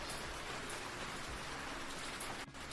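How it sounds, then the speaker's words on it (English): Heavy rain pours steadily in a dense, even hiss that fills the whole stretch, broken only by a brief dip near the end, with no voices present. "But it's raining so heavily."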